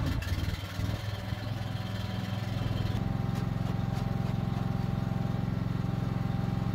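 A hydraulic spinner motor on a chemical seed spreader runs at low speed with a steady, even mechanical drone that holds constant throughout.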